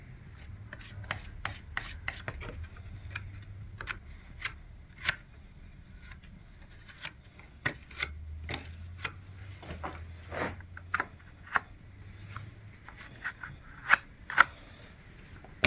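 Plaster of Paris on a traditional frame is sanded by hand in short, quiet rasping strokes with scattered sharper scrapes, close and faint, with no talking.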